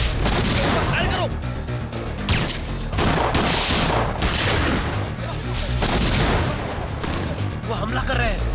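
A dubbed action film shootout with customs officers fires dense, continuous bursts of gunshots and loud booms, a busy battle din with shouting voices mixed in.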